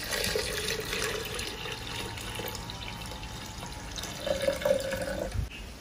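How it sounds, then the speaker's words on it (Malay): Water pours steadily into a thermal blender jug, a continuous splashing trickle that brightens briefly near the end before stopping. "masukkan air"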